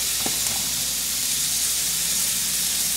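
Steak sears in a hot pan with a continuous close, loud hiss and crackle, a brief scrape near the start, and no talking.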